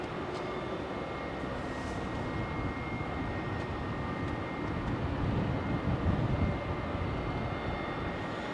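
A Boeing 777 jet departs runway 27L at London Heathrow, a broad continuous engine roar heard from a distance that swells slightly midway, with no talk.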